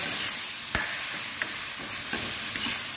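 Masala with soya and beans sizzles steadily in a pan while a spoon stirs it, with a few sharp scraping strokes against the metal over the constant frying hiss.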